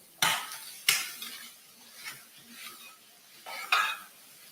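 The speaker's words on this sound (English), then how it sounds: "Just to stir fry this a little bit until it's a little bit transparent." Ginger, garlic and onions are stir-fried in a pan, with sharp clanks of a utensil scraping and knocking the pan at uneven intervals over a faint background sizzle.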